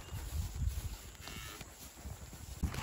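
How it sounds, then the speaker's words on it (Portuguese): Cattle being herded along give low, drawn-out moos close by, several calls over a background of shuffling and rustling, with no voices. "E essas vacas aqui que nós tá levando pra fazer uma inteirinha ali, pessoal."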